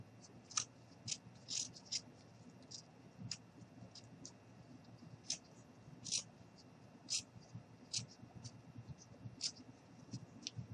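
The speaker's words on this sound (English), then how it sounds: "now I'm going to go ahead and cut this out" Scissors cut out a paper or craft piece for a small gnome, giving a string of crisp, close snips at an uneven pace over a low steady background hum.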